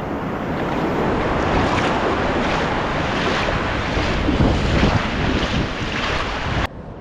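Sea surf on Digha beach rushes in a continuous loud wash of breaking waves, buffeted by heavy wind noise on the microphone, cutting off abruptly near the end.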